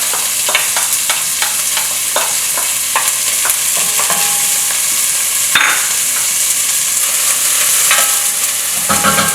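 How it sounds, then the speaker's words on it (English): Chopped red onion sizzles steadily in a hot pan with cumin, a close, loud frying hiss with repeated sharp clicks and scrapes of stirring throughout, and no talking. "So I've chopped up about an entire medium-sized red onion. Let me just add that."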